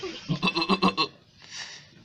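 A performer at a talent show imitates a billy goat, giving a quick run of about six loud, wavering bleats that are close to the mic, then a fainter trailing bleat.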